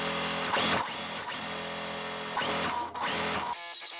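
A sewing machine chain-piecing quilt block pieces, running in quick whirring bursts with brief pauses between seams, close and fairly quiet.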